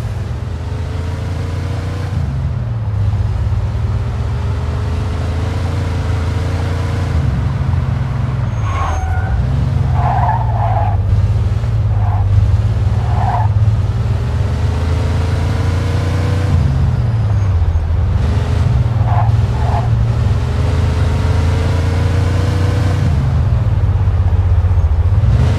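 A car in the video game Mafia II driving fast, its engine droning loud and steady with repeated rising gear-change sweeps and brief tire or brake squeals in the middle.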